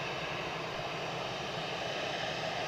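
An EasyJet airliner at Edinburgh Airport produces a brief, steady engine drone, moderately loud and unbroken, with no voices.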